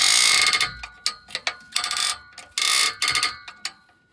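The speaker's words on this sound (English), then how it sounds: "I'm using a breaker bar and I'm going back and forth" A breaker bar worked back and forth on a seized muffler bolt gives loud, close ratcheting clicks in quick bursts, each separated by brief pauses as the handle swings back and forth.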